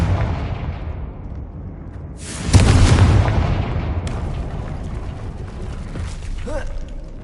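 A Confringo spell explosion in Hogwarts Legacy bursts loudly a couple of seconds in after a quieter lead-up, then rolls into a long fading rumble with small crackles afterward.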